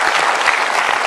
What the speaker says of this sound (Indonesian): Boleh kasih tepuk tangan untuk Mas Apung Widadi.